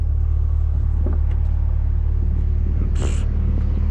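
A 2023 Chevrolet Corvette C8 rumbles on a neighborhood drive, its deep engine drone steady and close, with faint cabin noises and a brief high chirp near the end.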